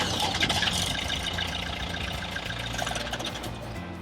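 Perkins 4-108 diesel in a sailboat runs just after a starter replacement, a steady, fairly loud mechanical idle clatter with a constant low hum, close by and with no speech.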